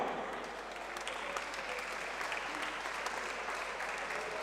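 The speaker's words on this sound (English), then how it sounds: "Ladies and gentlemen, round of applause for both fighters this evening" Sustained applause from an arena crowd after a professional MMA fight, with steady dense clapping holding at an even level throughout.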